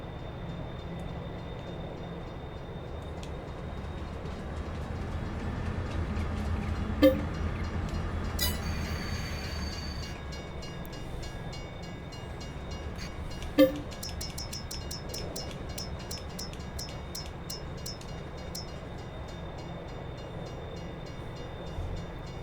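Train in Farming Simulator 22 rolling along with a steady low rumble and faint rail rattle, two sharp clanks at separate moments, and a burst of bright metallic ticking and squeals later, no voices.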